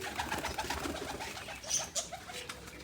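Pigeons in a loft give soft, low cooing calls that recur at an even rhythm across a few seconds, close by and moderately faint over a light background rustle, with no voices.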